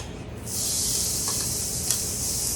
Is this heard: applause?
no